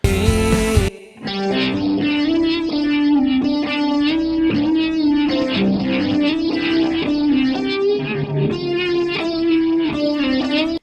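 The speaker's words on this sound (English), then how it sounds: "Do we go for that rotary sound?" Guitar chords and melody played through a rotary speaker effect in stereo ring out with a swirling, warbling modulation and slight grit, played steadily throughout after a brief opening burst.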